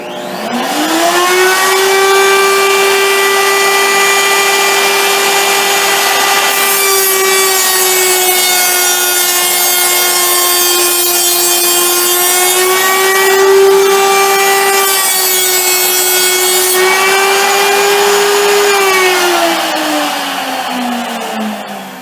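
A Bellinger L'il Giant roughing milling cutter makes a final pass to cut a strip, a loud sustained tonal whine with rich overtones that holds steady for about twenty seconds, dipping slightly in pitch before trailing off.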